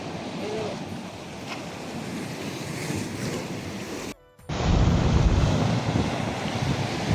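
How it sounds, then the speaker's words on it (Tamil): Sea waves surge and break against rocks on the Mullaitivu coast, a loud, continuous broadband wash with wind buffeting the microphone, briefly cutting out before resuming even louder. "இந்த அலை வருது"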